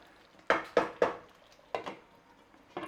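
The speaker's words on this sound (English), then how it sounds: "Give it a little stir over." A spoon knocks against a pot while red lentil curry is stirred, giving several distinct clacks in two quick clusters, close and clear with no talk over them.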